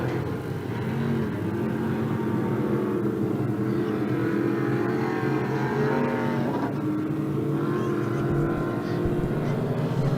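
Several racing boats in a circle boat race at the 2022 Thanksgiving Regatta roar continuously, their engines droning and layering as they battle three abreast through a turn, loud and steady throughout.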